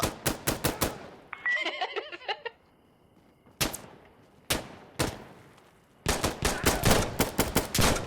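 Gunfire in the video game Insurgency: Sandstorm: loud bursts of rapid automatic shots in clusters, separated by short pauses and a few isolated single cracks, with no talking.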